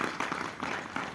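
An audience at a Hindi talk gives a short burst of clapping: a few soft, evenly spaced claps, fairly faint and distant.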